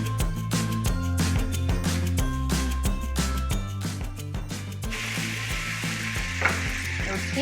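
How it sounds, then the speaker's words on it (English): Mushrooms and onions softening in a frying pan give off a steady sizzle, with scraping and ringing stirring clatters recurring throughout and music-like tonal knocks beneath. "you cook the mushrooms and onions until they are softened"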